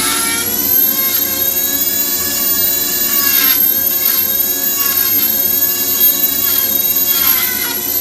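A rotary tool spins a burr cutting deep grooves, giving a loud, steady, close high-pitched whine that holds constant pitch for the whole stretch with slight dips as the cut loads, and no talking.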